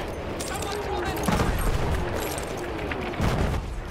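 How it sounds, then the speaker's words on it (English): Rapid machine gun bursts in a World War I shooter game set around Farquhar Hill and Achi Baba, crackling with dense repeated shots and heavier booms at intervals, under faint voices. "Machine gun! One there!"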